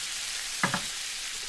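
Garlic and parsley butter sizzles on meat in a pan, giving a steady close hiss with a brief soft clink partway through and no voices.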